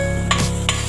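Chopped garlic sizzles in hot cooking oil in a pan, a steady close frying hiss with a couple of brief louder crackling bursts. No one speaks.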